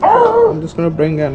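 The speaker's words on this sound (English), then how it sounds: "I saw another dog is barking, so I might hear him in the background." A dog yips and whimpers close by while someone talks over it, during a windshield install on a 2023 Yamaha MT-09.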